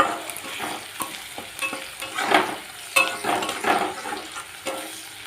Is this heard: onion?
yes